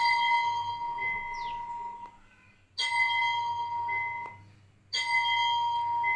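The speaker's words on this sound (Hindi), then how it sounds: "तो घंटी की आवाज़ सुनाई देती है" Electronic temple bell chime from a handheld digital Hanuman device. Three bright, ringing strikes arrive at roughly two-second intervals, and each one decays slowly with a shimmering metallic tone. No one speaks.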